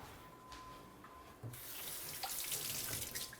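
Tap water runs steadily into a kitchen sink while hands are rinsed, a faint hiss that swells into a fuller, louder splashing stream midway through, with no talking.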